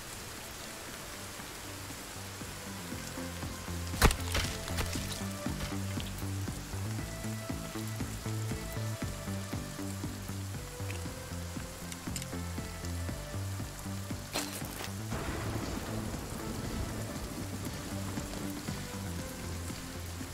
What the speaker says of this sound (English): I couldn't hear it because of the rain.